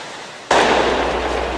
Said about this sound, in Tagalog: Nagsimula muna sa paisa-isang putok.